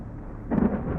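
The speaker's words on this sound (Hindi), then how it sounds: "और अचानक ही तेज़ बारिश शुरू हो गई।" A deep rumble of thunder swells halfway through over a steady wash of rain, growing louder and fuller before settling into a continuous downpour.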